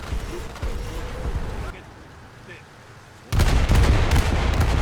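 A rocket barrage fired from a Yuri-class boat in War Thunder: a loud burst of launches, a brief quieter lull, then a sudden heavy roar of rocket fire and explosions close by.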